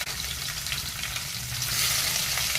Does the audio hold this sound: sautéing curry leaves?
yes